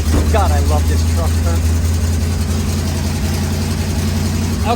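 A 1958 Ford F100 truck engine idles steadily close by, a continuous low rumble, while a person talks briefly over it near the start.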